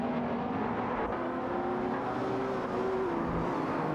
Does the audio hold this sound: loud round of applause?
no